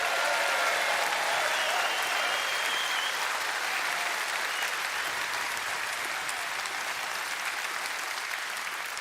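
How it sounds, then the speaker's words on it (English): A large crowd at a Reform UK party conference gives a round of applause, a sustained, loud wash of clapping that holds steady for the full nine seconds with no break. "Give Richard a round of applause"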